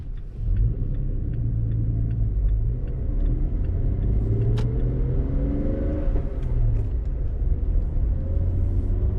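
A car tows a camping trailer along the road, its engine humming and rumbling steadily up close with constant tyre and road noise, the pitch shifting slightly as it accelerates.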